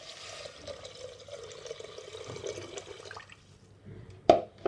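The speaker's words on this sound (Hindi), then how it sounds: "तो चलिए अब यहाँ पर हम पानी डालेंगे, जो कि मैंने 1 लीटर पानी नाप कर रखा हुआ है।" A measured litre of water poured into a pot of six-grain khichdi, a soft, steady splashing pour for about three seconds, followed by a sharp clank near the end.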